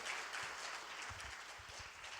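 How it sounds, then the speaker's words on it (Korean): A Korean church congregation at a Friday evening Holy Spirit service claps to welcome a missionary to the front, a soft, distant patter of applause over a couple of seconds. "우리 선교사님 나오실 때에 우리 뜨거운 박수로, 우리 사모하는 마음으로 박수로 환영하겠습니다"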